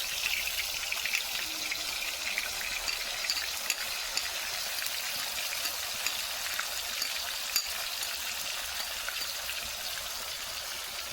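Hot oil in a kadai sizzles and crackles steadily as chopped fries cook, a dense, continuous frying hiss with scattered small pops and stirring, close and moderately loud, with no talking.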